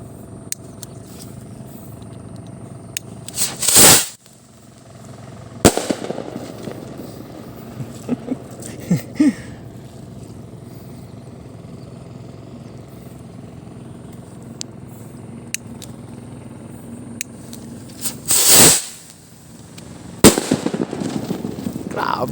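Firecrackers made in Zamboanga go off outdoors: two loud, sharp blasts a few seconds apart, each followed by smaller cracks and pops, with faint voices talking in the background between the bangs.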